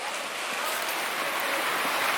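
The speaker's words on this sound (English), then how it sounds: "Yep, Dutch weather. Loads and loads of rain." Heavy rain pours steadily in Dutch weather, a dense, even broadband hiss with no breaks, close and loud throughout with no talking.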